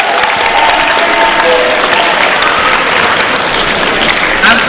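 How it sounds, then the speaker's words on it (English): School audience applauding a teacher, loud continuous clapping from a crowd held at a steady level throughout, with a few voices heard faintly within it. "Let's give her an applause,"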